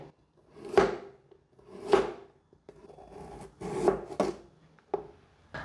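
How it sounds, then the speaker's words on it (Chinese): Kitchen knife slicing carrot into strips on a cutting board, a few distinct chopping strokes with soft rubbing between, close and fairly quiet. "把红萝卜切丝"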